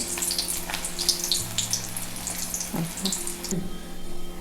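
Coconut kofta balls fry in hot oil over a low flame, giving a steady crackling sizzle close by with a faint hum underneath and no talking.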